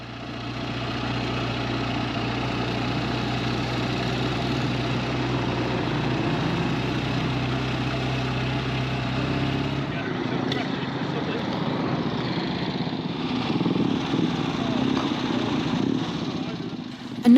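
A classic iron-head motorcycle engine idles with a steady low rumble, then shifts to a rougher, uneven running sound partway through; close and fairly loud.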